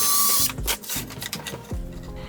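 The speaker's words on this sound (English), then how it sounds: "So here I am drilling where I want the hole to be" A power drill whirs in short repeated bursts while drilling a hole in wood, each burst starting loud and winding down, close by with no talk.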